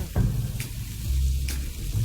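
Food sizzles on a hot plate in an Applebee's advert for sizzling entrees, a short loud hiss and crackle with a low rumble beneath, broken by a couple of sharp clinks.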